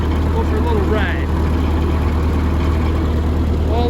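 A Ford 8N tractor engine runs steadily with a loud, constant low rumble throughout, close by, with a brief faint whistle-like sweep partway through.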